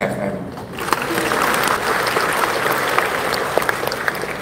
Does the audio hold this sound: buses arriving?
no